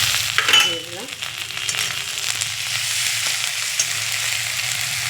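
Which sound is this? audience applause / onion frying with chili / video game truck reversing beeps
onion frying with chili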